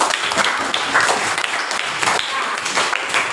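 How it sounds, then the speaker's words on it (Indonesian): A classroom of students breaks into applause again, a thick, continuous wash of many hands clapping together at steady loudness throughout, with no clear voices on top. "Tepuk tangan lagi"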